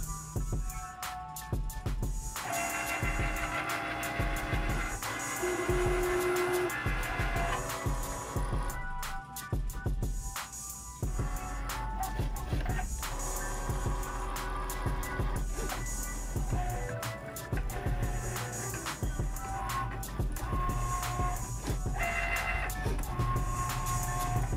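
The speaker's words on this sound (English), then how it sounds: "press the Cricut button and it's going to cut" A Cricut cutting machine cuts fabric for a T-shirt, giving a steady mechanical whirring and buzzing with shifting motor tones and clicks that runs continuously at moderate volume.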